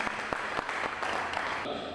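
An audience at a music awards launch in Mpumalanga claps briefly, a close, fairly loud burst of scattered applause with a few sharper individual claps.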